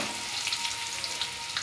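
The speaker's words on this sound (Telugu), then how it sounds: "ఉల్లిపాయలు వేసి బాగా వేడి చేద్దాం. బాగా ఫ్రై చేయాలి ఫ్రెండ్స్." Onions frying in hot oil in a pan give a steady, close sizzle with faint crackles scattered through it.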